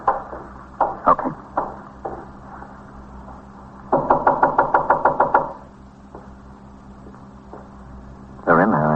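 Knocking on a door in a radio drama: scattered raps, then a rapid run of about ten firm knocks, with a voice speaking in the background.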